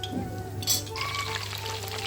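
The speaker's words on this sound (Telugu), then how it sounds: "ఇలా ప్యాన్లో ఆయిల్ వేసి బాగా కాగాక వీటిని డీప్ ఫ్రై చేసుకోవాలి" Brinjals deep frying in hot oil in a pan, a continuous close sizzle and crackle with a brief clatter partway through, no talking.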